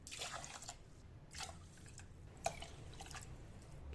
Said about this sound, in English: And so for the 2 cups of rice, I'm going to do 4 cups of water.